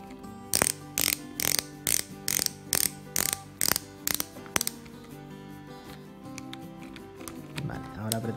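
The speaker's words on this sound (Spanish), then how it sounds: "vamos a poner el otro tornillo y luego apretaremos los dos a la vez" Two screws being tightened on a kitchen cabinet door hinge, a rapid series of about a dozen evenly spaced ratcheting clicks, close by, followed by softer handling noise.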